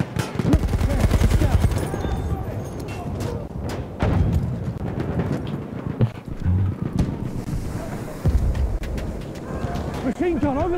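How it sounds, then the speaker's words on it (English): Machine gun fire in the video game Battlefield 1, loud and dense bursts of rapid shots over about ten seconds, mixed with other game noise and someone talking over it. "Machine gun over there."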